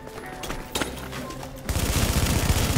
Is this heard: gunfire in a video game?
yes